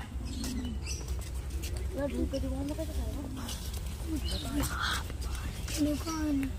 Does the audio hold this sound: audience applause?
no